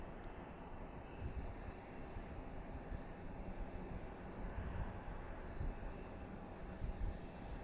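A Boeing 737 coming in to land at Boise Airport produces a steady, distant engine roar and broadband rumble, moderately faint and continuous, with no talk.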